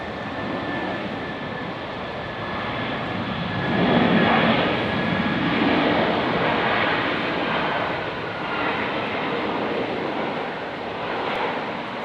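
An Airbus A330-200 airliner on runway 19 left at Brisbane airport produces a loud, continuous jet roar that swells around the middle and then holds steady, without voices.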